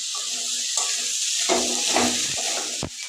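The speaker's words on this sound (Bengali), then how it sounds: "এবার এগুলোকে ভালো করে কষিয়ে নেব, যাতে মশলার কাঁচা গন্ধ না থাকে।" Slit green chilies, garlic paste and spices sauté in a pan for a banana-flower and prawn dish, giving a bright continuous sizzle broken by scraping stirs and occasional utensil knocks against the pan.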